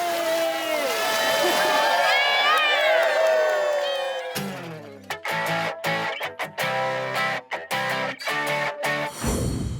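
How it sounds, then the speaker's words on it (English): A crowd of more than 200 people cheers and shouts together on an Atlantic beach as Nutella makes her way back into the ocean. Loud, close voices rise and fall for about four seconds, then the cheering cuts off abruptly. "with more than 200 people there to cheer her on"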